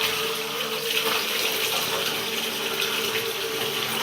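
Cold holy water flowing at a monastery in the hills of Georgia, a loud, steady splashing gush like an open tap, close by and continuous with no break and no voices.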